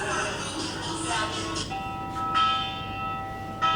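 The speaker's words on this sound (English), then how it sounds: "Victory bell that every team on campus, if you win a game, you get to go up and ring the bell" Victory bell on a boarding school campus ringing after a game win, with sustained ringing tones starting partway through and a second strike near the end, over outdoor crowd noise and background voices.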